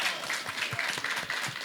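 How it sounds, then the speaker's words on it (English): Audience applause for a panel at a discussion event: dense, steady clapping from a crowd at close range, continuous throughout with no voices over it. "Can we give a full round of applause to all of the panelists as well?"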